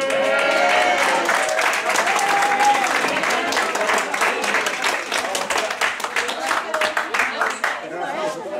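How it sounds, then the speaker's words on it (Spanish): A crowd at a 50th anniversary party applauds steadily, dense clapping that stays loud throughout, with some voices mixed in underneath. "un aplauso para ellos."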